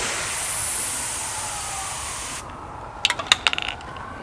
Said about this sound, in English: it sprays out in all directions, ensuring you got good coverage everywhere